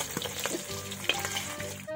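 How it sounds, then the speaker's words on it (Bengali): Thick black carp fish bones, from a 22-kilogram fish, fry in hot oil with a steady, close crackling sizzle and scattered sharper pops, and no voices. "কাঁটাটা ভালো করে ভাজবো"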